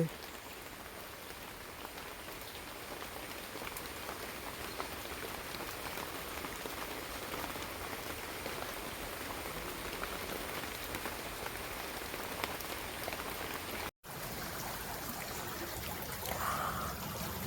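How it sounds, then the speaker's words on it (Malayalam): Heavy rain pours down steadily with water flowing alongside, a constant hissing wash that cuts out for an instant near the end before resuming. "അവിടെ ചെന്നപ്പോൾ ഇതുപോലെയുള്ള മഴയാണ് വെള്ളത്തിൻ്റെ ഒഴുക്ക്"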